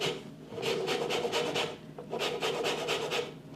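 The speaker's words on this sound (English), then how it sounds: "So I'll grate in a full tablespoon, which is basically the zest of a lemon." Lemon zest is grated in short rhythmic rasping strokes, roughly a dozen close scrapes in two quick bursts with a slight pause between, and no voices.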